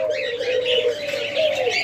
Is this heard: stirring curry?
no